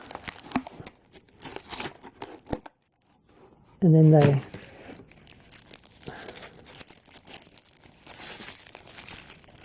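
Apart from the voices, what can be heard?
paper wrapping and tape being torn off toy accessories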